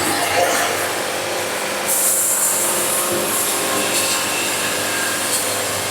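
Steady band sawmill whine and hiss of a slightly dull blade cutting through a log, continuous and close, with a brighter high rasp joining partway through.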